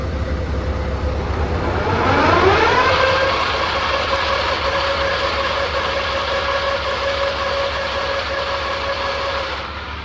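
A tractor engine runs hay equipment, climbing in pitch over a couple of seconds as it spins up, then settling into a steady, loud mechanical drone that continues alone to the end.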